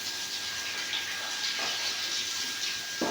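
Water pours and splashes steadily and close by in a continuous hiss with a few gushing swells, around a household pipe and tile setup near a pond.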